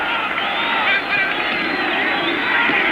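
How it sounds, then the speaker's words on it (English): A roaring stadium crowd cheers loudly and steadily at an NFL football game between the Los Angeles Raiders and Denver Broncos, the dense wall of voices swelling on a 4th-and-1 play. "Now the crowd comes alive."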